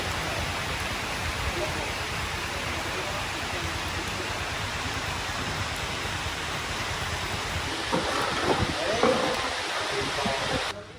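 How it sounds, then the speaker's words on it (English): Heavy rain pours steadily outdoors in the hills of central Vietnam, a dense continuous roar of drops filling the whole scene, with slight rises in intensity near the end. "it started pouring"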